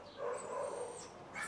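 Dogs at an RSPCA-run dog pound bark and yip in short, overlapping bursts, moderately distant and fairly quiet, with no talking.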